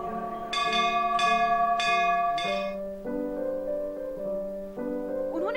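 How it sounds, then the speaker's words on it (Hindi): A sensor-operated temple bell, rung without touch via a proximity sensor, rings out four times in steady succession, each strike ringing on with bright overtones, then a lower sustained chime lingers alone. "बिना स्पर्श के ही ये घंटी बज जाती है"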